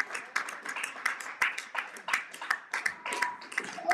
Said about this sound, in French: Acclame bien, acclame bien. Acclame bien, acclame bien.